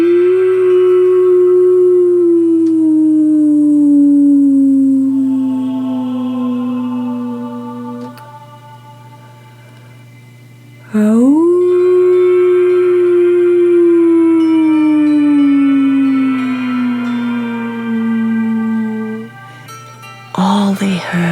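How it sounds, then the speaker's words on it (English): Wolves howling together under the moon, long sustained tonal howls that slowly fall in pitch, two main drawn-out calls with layered overlapping voices, close and loud. "All they heard were many, many wolves howling, singing with the moon."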